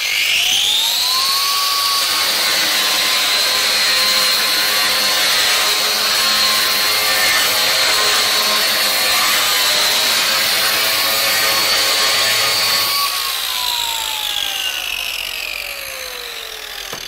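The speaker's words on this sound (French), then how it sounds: "C'est parfait pour poncer mes carreaux en surface." A Festool RENOFIX RG 130 renovation sander with a diamond disc grinds the surface of tiles, giving a loud, steady high-pitched whine and gritty abrasive roar that holds level before the motor winds down near the end.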